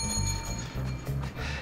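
A small hand bell rings repeatedly in quick, bright tinkling strokes, close and fairly loud, each ring overlapping the last in a steady metallic jingle lasting under two seconds.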